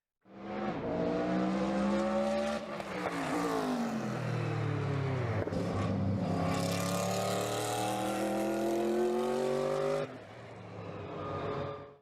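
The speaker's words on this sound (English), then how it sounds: "powered by a Mercedes-Benz 5-liter twin-turbo 32-valve V8, making a maximum of 820 horsepower" A Mercedes-Benz 5-liter twin-turbo 32-valve V8 in a C9 Group C race car roars loudly at high revs, rising through gears with sustained engine howl and a brief shift dip, close and continuous.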